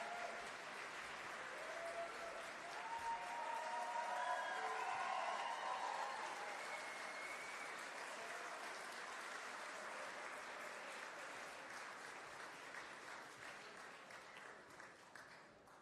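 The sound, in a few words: audience applause at an awards show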